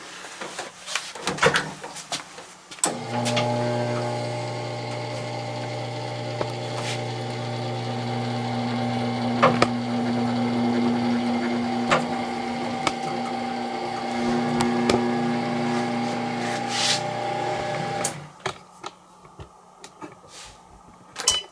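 A Sole F80 treadmill with a newly installed speed sensor gives a steady electrical motor hum with several clunks and clicks, then the hum cuts out when the machine is switched off. It is close and there is no talking.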